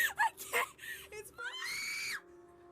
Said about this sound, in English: Stop that screaming, girls.